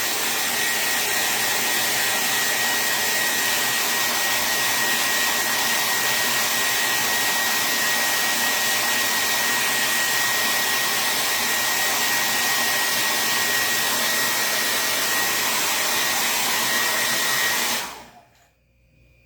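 A hair dryer blows steadily and loudly at close range, drying paint on a chalk-paint craft porch sign, its even whooshing roar holding for about eighteen seconds before switching off abruptly into quiet.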